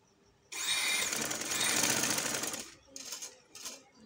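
A sewing machine runs in one steady burst for about two seconds, stitching lace along a garment neckline, then gives two short stuttering runs, close and clear with no voice over it.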